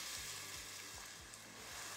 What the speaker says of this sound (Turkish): İnce doğradığım orta boy böyle iki tane soğanı ya da bir tane büyükçe boy soğanı ilave ediyorum.